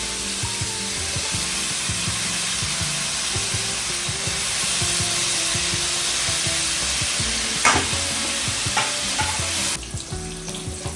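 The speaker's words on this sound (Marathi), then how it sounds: "नेक्स्ट आपण ते गाजर आणि फ्लावर शिजवून घेऊया, शॅलो फ्राय करून घेऊ" Carrot and cauliflower shallow fry in oil for veg biryani, a loud continuous close sizzle with occasional stirring scrapes and clicks, no voices.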